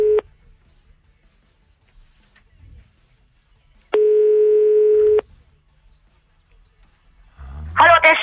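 Two steady electronic telephone dialing tones, a short one and then a longer ring of about a second, before a voice starts speaking at the end, on a Hungarian morning radio show.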